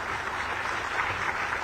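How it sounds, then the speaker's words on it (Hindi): A crowd applauds steadily at a teacher appointment letter ceremony in Jharkhand, a dense wash of clapping from many hands that holds an even loudness throughout with no voices on top. "एक बार जोरदार तालियां बजा दीजिए"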